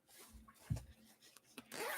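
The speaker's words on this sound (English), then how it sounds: "And you're going to close your zipper." Zipper pulled shut on a sewn canvas makeup bag with a lining, a short scratchy run of zipping at the end after soft handling and rustling of fabric, close up and quiet.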